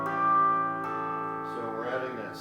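A flatted seventh chord rings out as sustained, overlapping tones that decay slowly, with some added notes shifting near the end. It is moderately loud and close.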